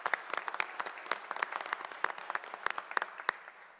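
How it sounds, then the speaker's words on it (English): An audience at a commission meeting claps steadily, a moderately distant patter of many hands that goes on throughout before tapering slightly at the end. "Joe Vega from Edinburgh Police Department, let's give them a round of applause, please."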